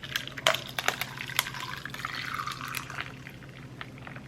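Strawberry lemonade pours over ice into a cup, a soft trickling stream broken by a few sharp clinks of ice, quiet and close, with no talking.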